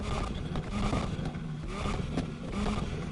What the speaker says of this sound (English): We're currently sitting in a 2-litre inline 4, and that's what it sounds like.